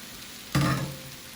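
Ackee dropped into a hot pan of softened onions, with a sudden loud sizzle that flares up and then settles into a steady fry.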